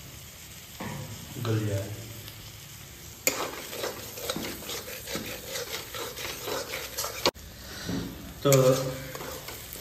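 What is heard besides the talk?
frying and stirring tomato mustard masala for mangur fish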